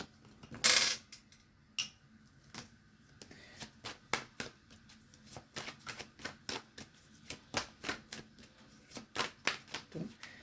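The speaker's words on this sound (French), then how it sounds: "Je remets mes cartes à l'endroit." Playing cards are handled and flipped face up on a table in a tarot-style reading, giving a series of close, crisp snaps and taps in an uneven rhythm with one sharp louder slap near the start.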